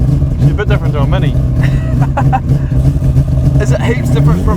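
A Mazda RX7 with a 26B four-rotor rotary engine drives hard, its loud buzzing drone rising and falling as it pulls through gears, heard close from inside the cabin with people talking over the noise.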